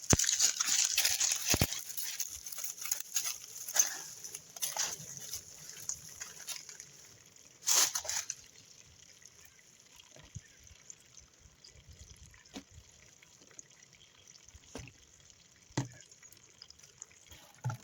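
Thin spring water trickling and splashing steadily into a jug, fairly close, with a few louder bumps and clatters early on before settling into a quiet, continuous dribble.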